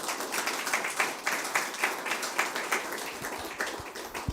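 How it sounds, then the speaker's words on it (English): A small audience at a launch event gives a round of applause, scattered individual claps audible in a brisk, moderately near burst lasting a few seconds. "So let's have a round of applause, please, for our Windrush warriors."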